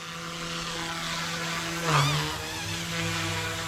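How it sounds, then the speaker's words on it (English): Small Blade Infusion 120 RC helicopter buzzing steadily nearby, its rotor whine holding constant with a brief swell in the middle. "Smooth helicopter, especially if you're gonna fly this indoors"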